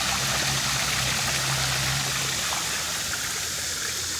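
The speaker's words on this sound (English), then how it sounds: "I guess it's appropriate that they use water, a water fountain, right?" Steady splashing of a water fountain in a rural Texas town, a continuous broadband rush of falling water heard alone at close range with no talking.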